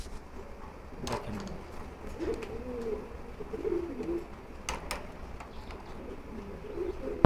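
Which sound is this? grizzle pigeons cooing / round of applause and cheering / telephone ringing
grizzle pigeons cooing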